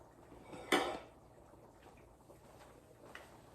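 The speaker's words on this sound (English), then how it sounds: "I'm just going to use this bowl right here." A mixing bowl set down in a home kitchen gives a single short clink near the start. Faint clatter and quiet room tone follow.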